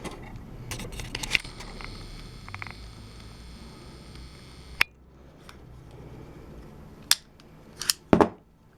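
An EKOL Tuna blank-firing pistol being worked by hand to eject a cartridge, sharp metallic clicks and snaps spaced apart, close and fairly quiet, ending in a couple of quick clacks.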